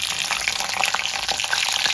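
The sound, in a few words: black cumin and green chili tempering frying in oil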